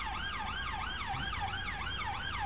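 Wailing emergency siren on a fire engine in GTA V with the LSPDFR police mod, British-style setting near Los Santos airport, rising and falling in a fast regular cycle, loud and steady throughout with no talk.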